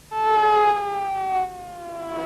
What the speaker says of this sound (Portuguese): Em Bagdá, as sirenes anunciando novos ataques aéreos já fazem parte do dia-a-dia.